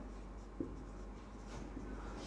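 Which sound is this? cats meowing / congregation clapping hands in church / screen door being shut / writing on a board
writing on a board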